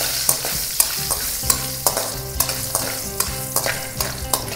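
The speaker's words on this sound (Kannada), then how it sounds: "ಸಲ ಇದನ್ನು ಚೆನ್ನಾಗಿ ಫ್ರೈ ಮಾಡ್ಕೊಂಬಿಡೋಣ." Spices with mace and ground nutmeg fry in a pan for a traditional ridge gourd huli thovve, with a spoon scraping and tapping rhythmically over a continuous sizzle, close by and without speech.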